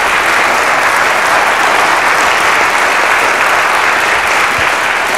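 Loud, sustained applause from an audience after a faith and justice talk, a dense even wash of clapping that holds steady throughout, with no voices standing out.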